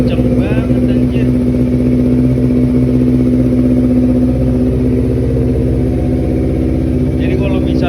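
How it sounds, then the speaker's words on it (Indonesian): A Honda CBR250RR motorcycle engine idles steadily while warming up, a loud, constant mid-pitched drone with a fixed hum, and a person talks briefly over it near the start and end. "kurang lebih suara motornya kayak begini guys"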